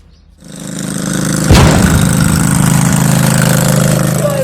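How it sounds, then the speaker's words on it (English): A Dayton lawn tractor with an 11 HP Briggs engine, set up as a mud racing mower, starts and then runs at a steady, loud idle close by, with a throbbing low rumble and no talk over it. "If you want to start it, this toggle switch goes up."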